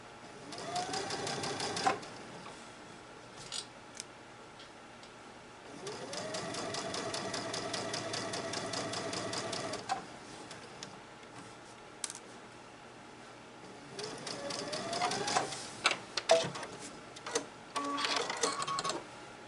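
Baby Lock Luminaire sewing machine stitching quilt pieces, running in three separate bursts of rapid, steady needle chatter with quiet pauses between, heard up close and without talk.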